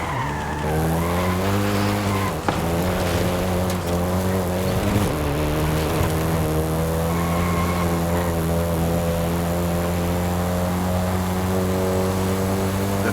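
Volkswagen Golf GTI driving in Forza Horizon 5, engine holding a steady droning tone with a brief tire skid early on, loud and close with no talk.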